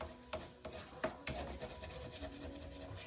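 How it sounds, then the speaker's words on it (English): Scraping of a pan after scrambling eggs for pork fried rice, a few quiet rasping and clinking strokes with small knocks, close and soft. "once we're done, scrape off the pan."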